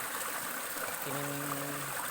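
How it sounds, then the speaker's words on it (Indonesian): Small forest stream trickling from a water source in a jungle, a faint continuous watery rush with a brief tonal hum partway through. "Jadi sini ada terdapat sumber air lagi di hutan, kita perhatikan itu ada saluran air kita minum."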